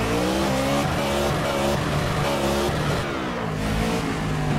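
A race car in Project Cars revs hard with a loud, continuous, rising engine drone while its tires squeal as the rear steps out under throttle, close and dominant throughout.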